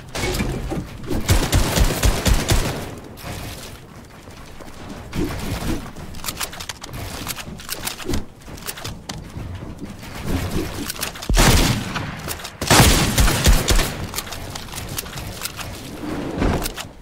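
A new shotgun firing in Fortnite, heavy blasts arriving in irregular bursts with dense crackling impacts and shattering debris between shots, loud and close throughout.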